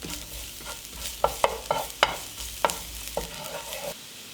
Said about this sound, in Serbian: Na zagrejano ulje dodajem beli luk i malo ću ga propržiti.